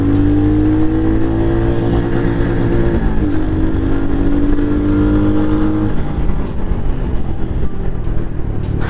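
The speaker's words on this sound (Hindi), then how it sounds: "तीसरे गियर पे ये बाइक 80 क्रॉस कर रही है" A Royal Enfield Hunter 350 motorcycle pulls hard in third gear, its engine note rising steadily and loud from close range, dipping briefly at a change of pace before climbing again.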